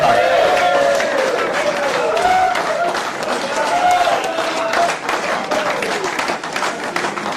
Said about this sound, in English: Big round of applause for Nick Favreto